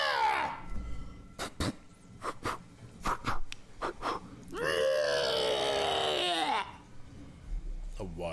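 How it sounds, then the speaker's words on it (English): A wild griffin nesting in a crypt in a turn-based video game screeches in a long, loud, rising-and-falling cry, preceded by a series of sharp flapping bursts from its beating wings. "From up ahead, you hear a screeching and a beating of wings."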